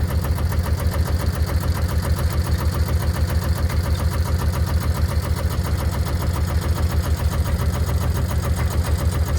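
A digger's diesel engine runs steadily at close range during a 4-ton fountain installation, a loud, continuous mechanical chug with an even throb and no talking.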